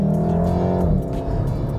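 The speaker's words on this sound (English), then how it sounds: "On to the engine sound." Artificial four-cylinder engine sound from a 2018 Volkswagen Golf R, piped through the cabin speakers: a steady, loud, droning hum that eases slightly partway through.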